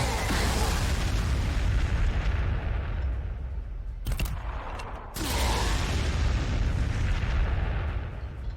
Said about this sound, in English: Let's throw some frag their way.